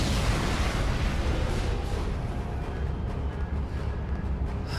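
A big explosion from a device near a Borg drone in the Star Trek Online game booms loud and close, then rolls into a long rumbling tail that slowly fades.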